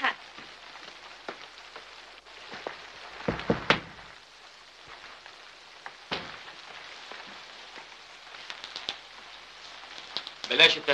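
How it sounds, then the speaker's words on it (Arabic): Heavy rain falls outside at a steady, moderate level, with scattered louder drops and patters, and a few brief vocal sounds break through near the end. "بره في مطر كتير"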